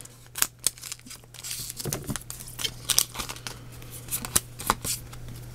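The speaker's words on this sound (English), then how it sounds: "I've been working on the same pair of scissors since 2012 for these openings" Cheap dollar store scissors snip and slice open Pokémon Ultra Sun booster packs, giving sharp crisp cuts mixed with foil crinkling and rustling at close range, in irregular bursts.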